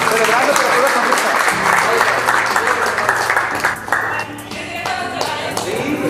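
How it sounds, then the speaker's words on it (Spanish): Audience applause and cheering in a school setting, loud close clapping from a crowd mixed with shouting voices and some music, easing somewhat toward the end. "¡Eso, un aplauso!"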